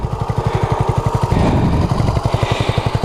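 A Honda CB250RS motorcycle engine runs close by, a steady fast pulsing idle with blipped throttle in the middle, the exhaust thumps regular and loud throughout.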